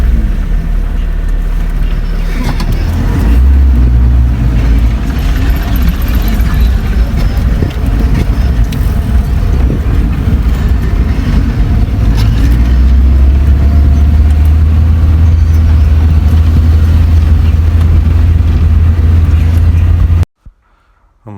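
A jeep grinds along a steep mountain road in Azad Kashmir in low first or second gear, its engine a loud, steady rumble close by that continues throughout before cutting off abruptly near the end.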